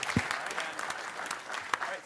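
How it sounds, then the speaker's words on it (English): Scattered audience applause for a conference panel at a Debian Derivatives event, with uneven claps, a few sharp ones standing out, and voices mixed in. "Give everyone a round of applause."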